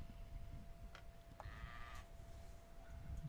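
Sheep, among them a Vendéen ewe, bleating faintly during a continental sheepdog championship final, with a couple of distant calls heard over a steady outdoor rumble and wind.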